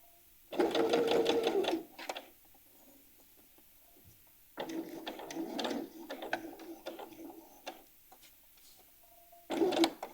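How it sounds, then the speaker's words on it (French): A sewing machine stitches across a blouse button placket in three separate runs, each a rapid, close mechanical whir, with quieter handling noise in the gaps between bursts. "Donc on vient coudre à 2 cm toute la largeur de la patte de boutonnage."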